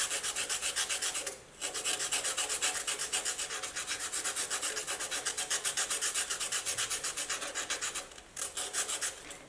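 A charcoal drawing stick is rubbed back and forth on sandpaper taped to a small wooden board, giving a steady, close rasping scrape in quick repeated strokes with two brief pauses.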